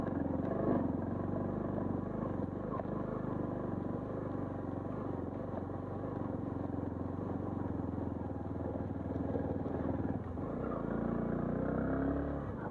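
A motorcycle carrying a pillion passenger rides off-road on a rough mountain stretch where a four-lane highway is under construction, its engine a steady, close drone with rattling and wind rumble throughout.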